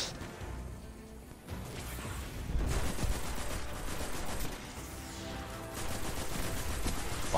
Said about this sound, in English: Oh shit, they're still shooting.